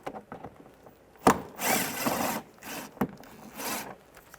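Bumper cover screws on a 1998-2010 Volkswagen Beetle being loosened with a T25 socket, a sharp click followed by several short whirring ratchet or driver bursts, close and moderately loud, no talking.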